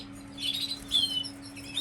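Several short, high chirps from captive breeding birds, likely reddish canaries, come in scattered bursts over a steady low hum, fairly close and moderately loud.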